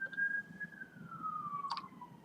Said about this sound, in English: Oh, it's going to pass our house. The traffic's slowing. It's an ambulance.